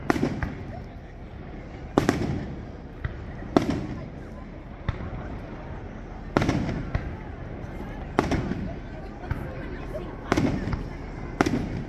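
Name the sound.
Canada Day fireworks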